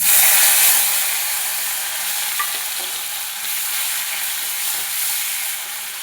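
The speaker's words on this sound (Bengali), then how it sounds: "এবার ওই তেলের মধ্যে দিয়ে দেবো লং এলাচ দারচিনি তেজপাতা আর শুকনো লঙ্কা এবারে দিয়ে দেবো পেঁয়াজ বাটা" Onion paste frying in hot oil with cloves, cardamom, cinnamon, bay leaves and dried chillies for a prawn malai curry, a loud, dense, continuous sizzle close by that eases slightly after the first second, with no voices.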